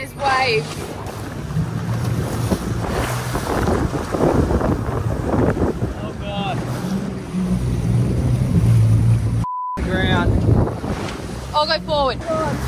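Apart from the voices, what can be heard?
waves and wind around grounded boat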